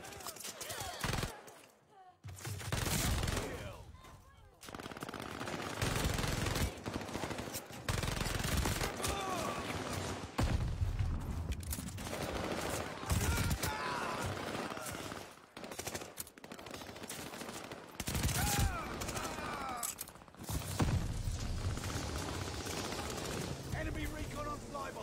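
Bursts of rapid automatic gunfire from a video game gun crackle in repeated volleys separated by short pauses, loud and close, with a player's voice talking among the shots.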